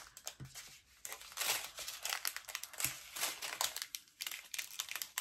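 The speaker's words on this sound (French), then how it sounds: "on va ouvrir un ou deux paquets ensemble" Plastic sticker packets being handled and opened, producing close, busy crinkling and rustling bursts with brief tearing sounds, continuous through the clip without talk.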